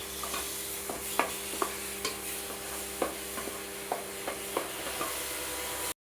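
Mango coconut ladoo mixture is stirred in a pan over the flame, with soft regular scrapes and taps of the spoon above a steady low sizzle.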